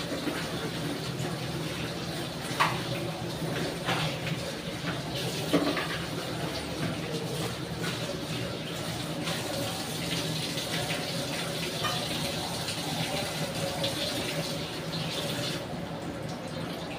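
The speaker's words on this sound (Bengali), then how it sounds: "পরিষ্কার করে ধুয়ে নিলাম" An oily pot is scrubbed and rinsed under a running tap, with water rushing steadily for a long stretch, occasional knocks and splashes of the vessel, and faint background sounds throughout.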